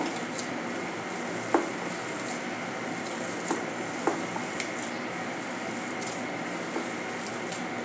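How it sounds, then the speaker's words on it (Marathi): A spoon stirs gulab jamun mixture with grated paneer in a bowl, giving soft continuous scraping and squishing at low level with a few sharp utensil clicks against the bowl. "चांगला मिक्स करून घेऊया एकजीव होईपर्यंत।"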